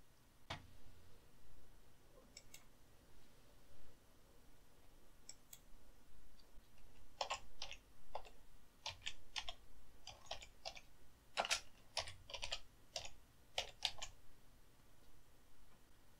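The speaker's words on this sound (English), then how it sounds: "I'll select the text tool and start typing." Computer keyboard keys clack while text is typed into a Hitfilm title, a few isolated taps followed by a quick irregular burst of keystrokes, close and fairly quiet.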